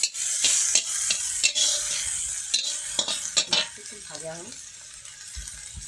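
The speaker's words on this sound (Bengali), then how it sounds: "প্রথমে আমরা পেঁয়াজ আর গোটা লঙ্কা নিয়ে নিয়েছি ভালো করে মেরে নেবো" Onions and whole chillies frying in oil in a kadai: a bright, steady sizzle broken by repeated rhythmic spatula scrapes, briefly joined by a voice before the frying quiets down.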